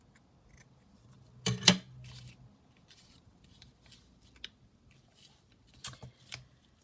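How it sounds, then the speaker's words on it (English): Scissors snip around a cut-out piece of paper for a handmade junk journal, a quiet pair of close cuts followed by scattered light rustling and a couple of later snips. "And then we'll just cut around it a little bit."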